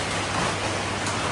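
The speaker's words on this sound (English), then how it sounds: "it started absolutely hammering down with rain" Heavy rain hammering down outdoors in Nan Province, Thailand, a steady dense hiss of pouring water with no breaks, loud and even throughout the short stretch.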